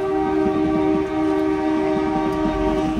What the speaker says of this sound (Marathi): आता 4:16ची ट्रेन इलेली आहे CST